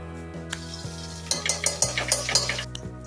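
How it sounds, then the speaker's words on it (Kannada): Cashews frying in ghee in a pan for ghee rice, with a low steady sizzle under intermittent scraping and stirring clinks of a utensil against the pan, close and without talk. "ಬಿಡಿಸಿರೋಂಥ ಗೋಡಂಬಿನ ಫ್ರೈ ಮಾಡ್ಕೊಳ್ಬೇಕು."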